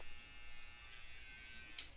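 Electric hair clippers (debulkers) blend a mid taper fade, a steady close buzzing drone that runs throughout, with a brief brighter rasp near the end as the blade meets hair.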